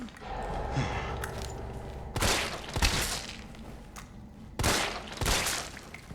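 Two bursts of video-game gunfire, a double shot near the middle and another pair toward the end, sharp and loud over a low ambient game soundscape.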